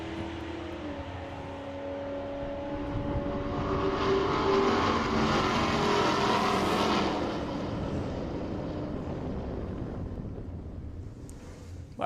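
A supercharged drag racing car idles and rumbles in the lanes at a drag strip, its engine note swelling louder mid-clip before easing off, heard from a moderate distance with wind noise over it.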